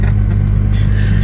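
A bus drives past at around 2 a.m. on a summer night, a loud, continuous low engine rumble that stays close and steady throughout.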